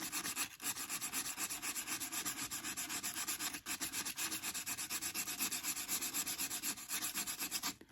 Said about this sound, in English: And for this type of distressing, this is going to take a while.